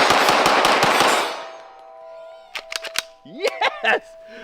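A rapid burst of loud, sharp unsuppressed gunshots fires close by, then a lingering metallic ring with a few scattered clicks and clatters afterward.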